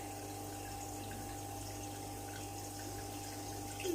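Aquarium water change in a home fish room, with a pump or siphon drawing water in a steady low hum and soft trickle, continuous and fairly quiet, with no talking.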